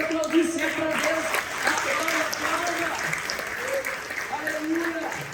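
A church congregation applauding, with a steady wash of clapping heard under a voice speaking loudly over it throughout.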